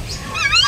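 A protective pair of geese honking, with short nasal calls rising at close range over a low background.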